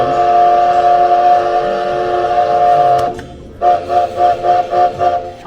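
A vintage trolley's warning signal sounds as a sustained harmonic tone, then cuts off and returns as a series of five or six short rhythmic blasts, loud and close with no talk.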